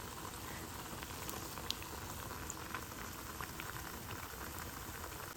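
Malpua batter frying in hot oil, a steady close bubbling sizzle with scattered crackling pops throughout and no talk.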